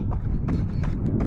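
Horses move near a river, with a few irregular hoof-like thuds and splashy bursts under steady wind buffeting on the microphone.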